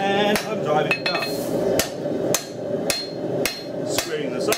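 Close, steady blows of a 1.5 kg engineering crossbeam hammer drive steel down over the edge of an anvil during knife forging: about eight crisp metallic strikes at a regular pace, each with a short ringing tail.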